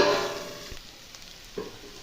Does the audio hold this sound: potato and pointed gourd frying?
yes